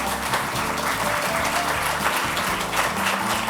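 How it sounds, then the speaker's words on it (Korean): Steady, dense applause from a large audience at an arts awards ceremony, continuous clapping throughout with no pauses or talking. "다시 한번 많은 박수 부탁드립니다."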